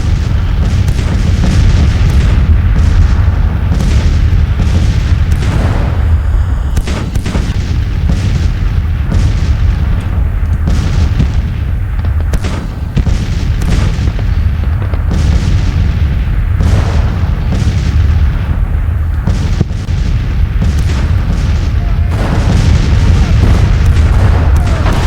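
Heavy artillery support fire in the Civil War strategy game Grand Tactician at Winchester, a loud, continuous barrage of overlapping booms and blasts rolling on without pause.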